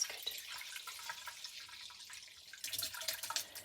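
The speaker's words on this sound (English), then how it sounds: "I'm just going to gently pour it in." Blackcurrant liquor being gently poured into a container on a kitchen worktop, a soft, quiet trickle and splash with some brighter splashing toward the end.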